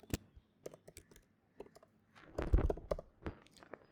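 Someone types on a computer keyboard, with sparse, quiet key clicks early on and then a denser cluster of taps near the middle.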